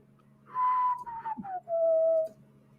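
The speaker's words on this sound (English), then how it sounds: "my bad for whistling" A person whistles a short two-part tune, a clear sliding tone with a brief pause in the middle, close and fairly loud.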